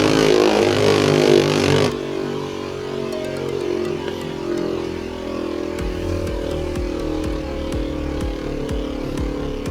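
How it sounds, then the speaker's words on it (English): Beyblade Burst Turbo spinning tops, including a Dread Hades H3 with a flat performance tip, whir in a test battle stadium, starting with a loud burst of launch and scraping from a tilted disc, then a steady whirring hum with small rattling knocks. "Alright, let's do some test spins and test battles."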